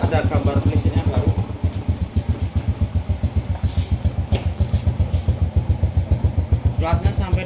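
A motorcycle engine idles close by, running smoothly with a steady, even pulsing throb, and a voice is briefly heard over it.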